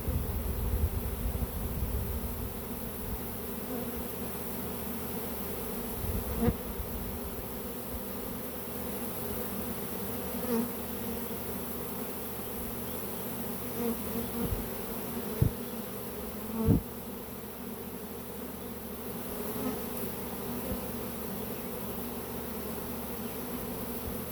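A honey bee swarm fills the air with a steady, dense buzzing that holds throughout, with a few louder wingbeats passing close and no voices.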